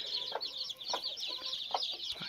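A steady chorus of high, rapid peeps from three-day-old chicks with a few low, soft clucks from a native country hen breaking through at intervals, close by.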